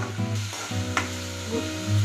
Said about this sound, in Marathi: तेल सुटेपर्यंत परतून घ्यायचा आहे आपल्याला हा मसाला।